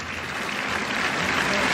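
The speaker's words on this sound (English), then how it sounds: "It's a good round of applause on his way back towards the dressing room." Steady, dense applause from a cricket crowd at an England versus Sri Lanka one-day international as a dismissed batsman walks back, a continuous even wash of clapping that swells slightly toward the end.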